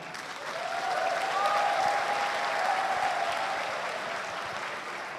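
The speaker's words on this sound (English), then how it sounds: "please give a warm round of applause to our distinguished speakers today" Warm, sustained applause from a university lecture audience welcoming guest speakers: a thick, even wash of many hands clapping that swells slightly and then eases, with a faint tonal ring running through it.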